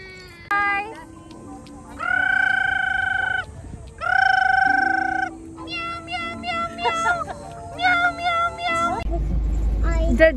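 Several distinct cat meows, long sustained calls alternating with shorter chirpy ones, loud and close at a dog-friendly park, with faint voices and background noise between them.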